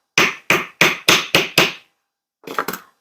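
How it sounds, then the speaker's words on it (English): A mallet strikes jump rings resting on a steel bench block under a wooden block, six sharp, loud, evenly spaced blows followed by a pause and a quicker cluster of softer taps. "Do a little bit of mallet hammering here."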